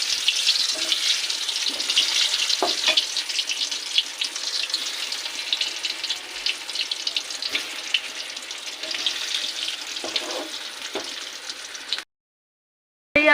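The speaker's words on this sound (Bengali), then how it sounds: "সেই আলুটাকে এবার তেলে ভেজে নেব" Steamed potatoes fry in hot oil for chicken biryani with a steady, close hiss and a few soft pops. The sizzle cuts off into near silence at the very end.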